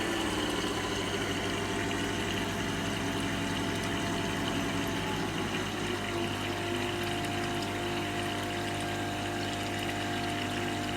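Water rushes steadily through a laboratory weir channel, giving a constant, even flow noise with a mechanical hum running underneath.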